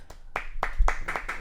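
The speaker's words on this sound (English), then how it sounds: "Golf clap from my man." A few soft, sparse hand claps in a slow, uneven rhythm, a quiet golf clap in a NASCAR studio, close and brief with no talking.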